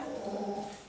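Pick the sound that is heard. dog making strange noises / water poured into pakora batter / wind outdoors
dog making strange noises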